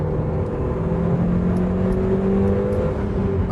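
A Mk1 Audi TT pulls hard in second gear, its engine note climbing steadily in pitch under a constant wash of road and wind noise, heard from inside the car with no speech.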